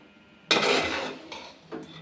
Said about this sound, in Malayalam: ഇതുപോലെ ഇളക്കുക